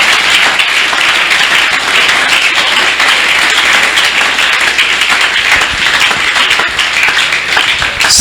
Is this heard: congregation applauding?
yes